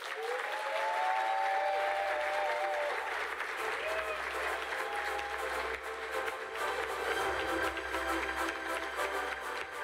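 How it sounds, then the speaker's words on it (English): Warm round of applause from a breakfast audience welcoming an honoree to the stage, steady dense clapping throughout with crowd murmur and a few voices calling out over it. "Please give a warm round of applause as we welcome to the stage our pioneer, Ms. Denise D. Bowen."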